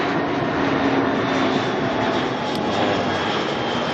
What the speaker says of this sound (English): Not the loudest of planes, so we're not expecting that to be too much of a screaming noise.